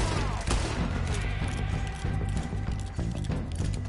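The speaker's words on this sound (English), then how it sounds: "Me está gustando un montón el rifle." Rifle gunfire in Red Dead Redemption 2, a western video game: a few sharp shots break through a dense, steady bed of game sound with galloping hoofbeats and music, moderately loud and continuous.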